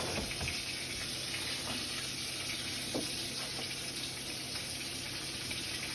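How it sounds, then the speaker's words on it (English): Milk pours into a pot of macaroni and cheese in a home kitchen, a steady close liquid rush lasting several seconds with no voices. "I'm gonna pour some milk."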